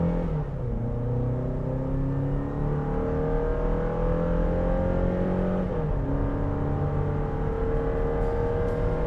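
A 2023 Toyota Tacoma accelerating hard from a standstill to 60 mph with traction control off, engine droning steadily and climbing in pitch through gear changes, heard from inside without talk.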